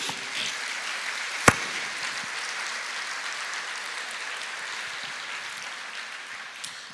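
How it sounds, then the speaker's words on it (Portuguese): A church congregation applauds during a sermon. The clapping is a steady, diffuse wash of many hands at moderate level, with one sharp loud clap or knock near the start and a fainter one near the end. "aplauda ao Senhor"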